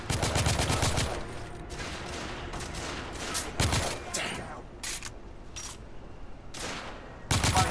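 Rapid gunfire bursts from the PS4 shooter The Order 1886, loud crackling volleys at the start, around 3.7 seconds and again at the end, with sparser shots between, all over a steady game background.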